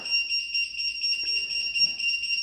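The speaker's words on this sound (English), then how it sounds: "And my joystick is beeping at me." Joystick of a Jazzy Carbon power wheelchair beeping, a steady high electronic tone pulsing continuously and fairly loud, close by with no speech.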